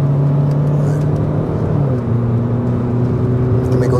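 A 2023 Opel Grandland with a 130 hp engine drives along, its steady mid-pitched engine hum and road roar continuous and close, with a slight rise in tone partway through and no talking.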